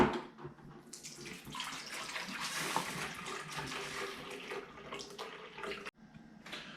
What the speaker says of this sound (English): Get your milk ready to go. And pour however much you want.